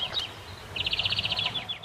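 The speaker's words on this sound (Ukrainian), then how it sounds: "Лише птахи співають, як несамовиті." Birds chirp and sing in a quiet war-torn village after shelling stops, with a rapid trill of bright chirps in the middle and scattered calls around it, moderately close and without voices.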